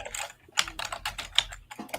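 Keys clacking on a near-mechanical computer keyboard, a fast irregular run of close, crisp strokes with no voices.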